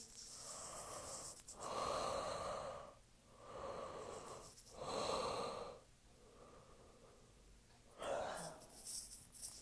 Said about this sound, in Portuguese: Vai bocejando aí, que eu vou bocejando aqui.